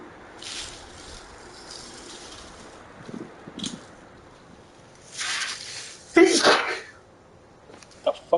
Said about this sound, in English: The fuck am I sneezing so damn much?